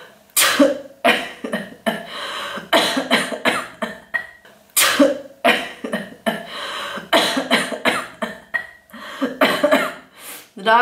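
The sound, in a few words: person coughing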